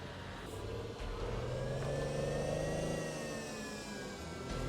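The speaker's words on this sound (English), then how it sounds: "this is definitely an electric car from the way it sounds" An electric car in Watch Dogs: Legion drives past with a smooth, whining electric motor hum that rises and falls, steady and fairly close, with no voices.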